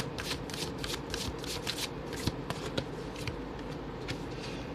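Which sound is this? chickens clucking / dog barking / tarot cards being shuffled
tarot cards being shuffled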